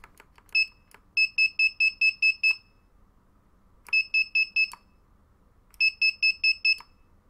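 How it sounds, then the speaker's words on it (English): A three-wire buzzer on a drone flight controller running Betaflight, powered by a LiPo battery, sounds in three bursts of rapid, evenly spaced electronic beeps, about six beeps per burst, clear and close with a faint hum between. "So if I flip the buzzer switch,"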